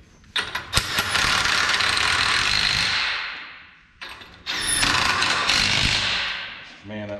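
An air ratchet runs lug nuts down onto dually truck wheels in a garage, sounding as two long, loud buzzing runs with sharp clicks at the starts and ends.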